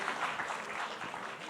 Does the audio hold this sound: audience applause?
yes